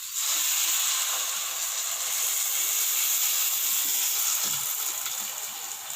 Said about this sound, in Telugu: దీనికోసం మనం 4 గ్లాసెస్ ఆఫ్ వాటర్ అనేది యాడ్ చేసుకోవాలి.